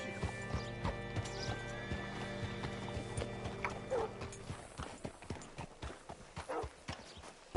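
Horse hooves clip-clopping in the video game Red Dead Redemption 2, a steady run of close, distinct hoof strikes over humming ambient tones, with occasional soft creaks and shuffles and no talking.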